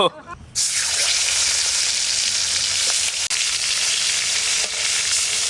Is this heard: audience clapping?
no